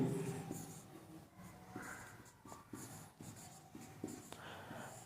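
Marker or chalk scratching across a board during a Hindi-medium biology lesson on reproduction, coming in short repeated strokes at low level with pauses between words being written, and no speech over it.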